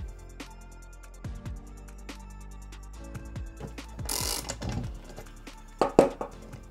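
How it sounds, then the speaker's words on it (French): Ratchet working on the nut of an MBK Booster scooter transmission, giving several short mechanical clicking bursts with intermittent pauses, close and fairly loud; no one speaks. "on desserre l'écrou"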